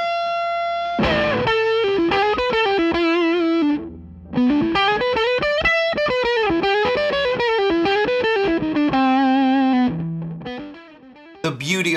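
Electric guitar played through a Summer School Electronics Trash Panda soft-clipping, mid-pushed overdrive/distortion pedal, a loud sustained driven melody line with bends and chords, a brief pause near four seconds, then playing on to the end.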